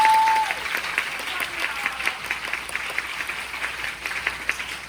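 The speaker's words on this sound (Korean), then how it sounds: "박수 한번 저희 부탁드립니다" Steady applause from a large theatre audience at a stage greeting after a musical performance, sustained clapping throughout at moderate level, heard from within the hall.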